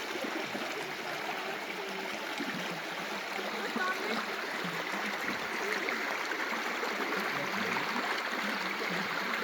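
A small stream flows through a wooded Missouri property, giving a steady, even rush and trickle of water from nearby that holds constant throughout.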